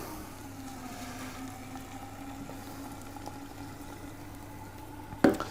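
Half a litre of liquid oxygen boiling in an open container, a faint steady hiss and low bubbling hum throughout, ending in a sharp brief clatter.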